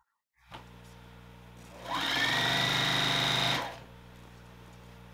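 A sewing machine binding a quilt runs in one steady loud burst for about two seconds, rising in quickly and stopping, with quiet room hum before and after.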